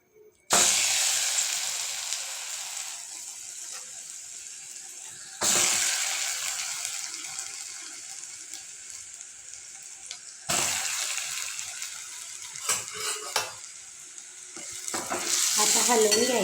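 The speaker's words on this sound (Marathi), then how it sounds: "आपण जे रताळू खिसून घेतलेले होते ना, ते आपल्याला यात टाकायचे तुपात" Grated sweet potato hits hot ghee with a loud sizzle, settling into a steady fry, and two more sharp bursts follow as further batches go in, with some stirring near the end.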